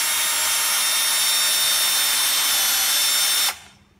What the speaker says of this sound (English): Is it drilling? Yes, drilling.